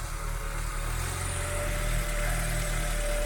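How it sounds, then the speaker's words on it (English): A Renault 9 engine idles unevenly with a fresh exhaust repair and possible carburetor and choke issues, producing a low steady rumble that wavers slightly, close by and moderately quiet, with no talking. "Bit of an erratic idle, but that could be carburetor settings"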